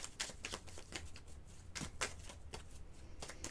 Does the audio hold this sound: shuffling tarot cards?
yes